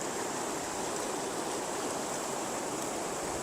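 River water overflows at Malir Dam in Karachi, making a steady, loud, close rushing roar with no break.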